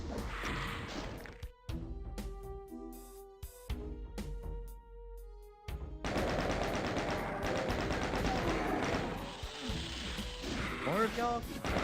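DOOM II combat with BFG and rocket launcher fire: loud explosive blasts, crashes and rapid weapon bursts pile up with monster noise, dense and continuous near the end, under occasional talk.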